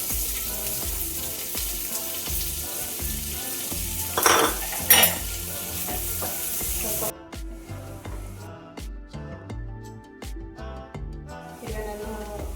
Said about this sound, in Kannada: ನಾನು ಇಲ್ಲಿ 1 ಕರಿಬೇವು ಕಡ್ಡಿ ತಗೊಂಡಿದ್ದೀನಿ, 1 ಈರುಳ್ಳಿ ಚಿಕ್ಕದಾಗಿ ಕಟ್ ಮಾಡಿರೋದು ಹಾಕ್ತಾ ಇದ್ದೀನಿ